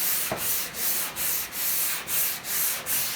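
Body filler covered in guide coat is sanded by hand on a Chevy pickup, with long rhythmic rasping strokes repeating close up, each one fading briefly before the next.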